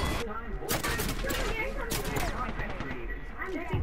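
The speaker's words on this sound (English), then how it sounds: "Somebody's shooting me from up there." Gunfire in a shooter video game, rapid bursts of shots in quick succession, fairly close and sharp, with a voice speaking over parts of it.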